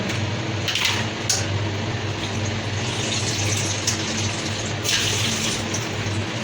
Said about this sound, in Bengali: আর একটু জল লাগবে মনে হয় যাই হোক আমরা একটু জল দিয়ে দেবো